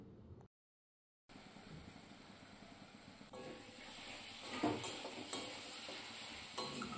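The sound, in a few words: spatula stirring and frying spice paste with ground fish in pan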